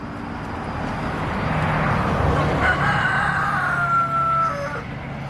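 A farm rooster crows once in a long, drawn-out call, loud and fairly close over steady outdoor background noise.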